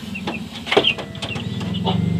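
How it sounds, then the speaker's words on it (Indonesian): Close clucks and short calls from a Merawang chicken, a rooster-type bird vocalizing in several bursts against a low hum. "saya lagi ada ayam baru, jenis baru, ini merawang"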